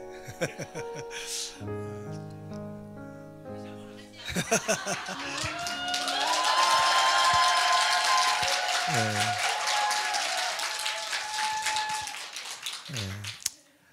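A church congregation at a revival meeting applauds, a moderate, sustained patter of clapping that swells after a short musical passage and then tapers off.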